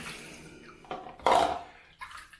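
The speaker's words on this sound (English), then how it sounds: "bit of water on there just to wet it up a bit, and let's get going." Water splashes onto a shaving brush in a sink, a few close wet sloshes and a louder splash with small drips and clinks, no talking.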